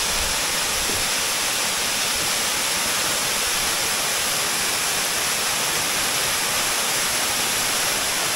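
A waterfall pours down a rocky cliff after the season's first rain, a dense constant roar of rushing water filling the scene at close range, with no voices.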